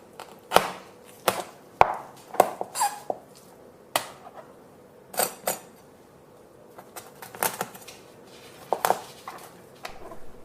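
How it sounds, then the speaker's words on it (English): A knife cuts through a salmon backbone between the vertebral discs, giving about a dozen sharp, irregular chops and taps against a board, close and clear over quiet background, with no voices. "You can cut this into smaller pieces by cutting between the discs."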